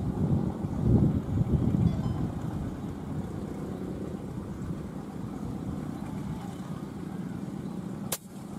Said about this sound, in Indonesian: Kencang angin dari kiri nih.